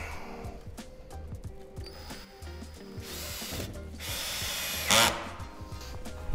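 A power drill bores through Marley weatherboard cladding before fixing, heard in short uneven bursts of whirring and grinding, with a louder drilling burst near the end, amid close handling noise.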